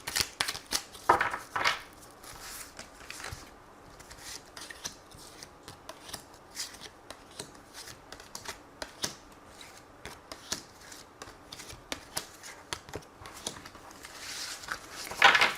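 Tarot cards being shuffled for a reading, with crisp riffles and slaps in irregular bursts and louder flurries near the start and end, close up and without talk.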